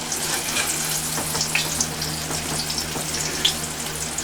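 Green tomato slices fry in hot oil with a dense, crackling sizzle, small pops and spits scattered over a steady bubbling hiss, close by and unbroken.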